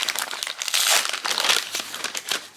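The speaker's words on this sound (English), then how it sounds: "Time for some paper rustling." Paper being unwrapped from an advent calendar chocolate: close, busy crinkling and rustling in quick bursts, with no talk.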